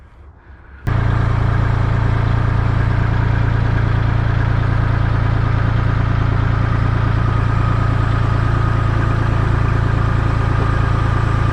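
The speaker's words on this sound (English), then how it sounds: "Now I can push it this way with my tractor" A tractor engine starts up suddenly and runs at a steady, loud drone while pushing, with a strong constant hum and no voices over it.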